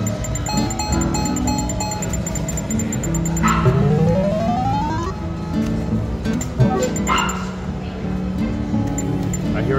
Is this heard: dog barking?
yes